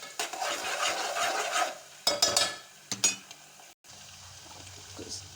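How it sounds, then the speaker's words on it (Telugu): Ginger-garlic paste fries in a pan with a close sizzle, broken by scraping stirs and a few clinks of a spoon against the pan. "అల్లం వెల్లుల్లి పేస్ట్ పచ్చివాసన పోయేదాకా వేయించుకుందామండి."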